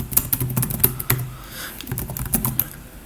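Quick, uneven keystrokes clatter on a computer keyboard, close and fairly soft, with a brief pause midway before typing resumes.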